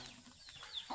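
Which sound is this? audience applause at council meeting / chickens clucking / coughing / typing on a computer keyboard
chickens clucking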